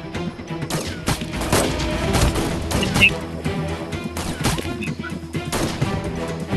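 Sniper rifle fire in the mobile shooter Sniper Arena, with loud gunshot blasts over continuous game noise and background action, dense and close, no speech.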